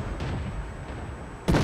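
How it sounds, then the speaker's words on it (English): Artillery fire in the World of Tanks tank battle game: a dull, rumbling low boom sustained through the clip, ending in a sharper, louder burst at the close. "And more artillery as we move along."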